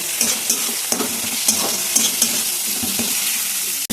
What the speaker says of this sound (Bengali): ভালো করে এগুলোকে নেড়ে করে ভালোভাবে ভেজে নিতে হবে, ব্রাউন করে ভেজে নিতে হবে ভালো করে কষিয়ে।